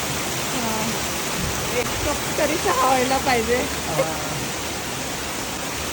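Heavy rain pours down steadily outdoors, being collected as water for tea, making a loud, even roar of hiss while a person speaks briefly over it.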